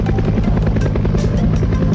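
A helicopter at a flight museum thumps with rapid rotor beats over a loud, dense engine roar, close and continuous with no talk.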